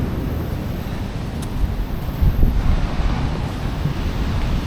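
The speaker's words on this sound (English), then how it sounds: "Some epic waves as well." Ocean waves at Robberg Nature Reserve near Plettenberg Bay, a loud continuous roar of surf heavily buffeted by wind against the microphone, with a swell of crashing water midway.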